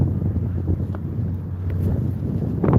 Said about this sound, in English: yes, we can hear the wind